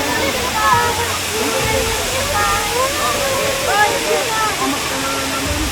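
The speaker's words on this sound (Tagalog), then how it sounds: "Andito tayo ngayon sa isa sa pinakasikat na atraksyon dito sa Puerto Galera, ang kahangahangang Tamaraw Falls." Tamaraw Falls in Puerto Galera gives a steady, broad hiss of falling water, with a person talking over the continuous rush.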